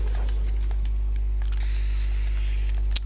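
A spray being used in a video game gives a steady hiss that brightens in its second half over a constant low hum, ending with a short sharp click.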